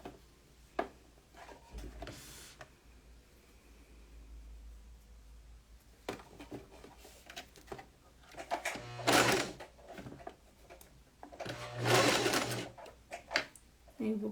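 A sewing machine runs in short loud bursts while stitching a French seam, with quieter handling sounds between runs and someone talking at times.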